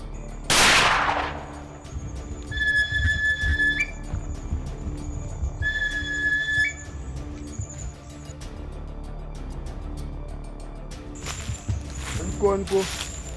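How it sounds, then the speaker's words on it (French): A single loud, sharp gunshot bursts out near the start in Korhogo, Senoufo dozo hunter country, then fades under a steady hum, tonal whistling and a spoken voice, with a later noisy burst near the end. "Dans la foulée, un coup de feu retentit"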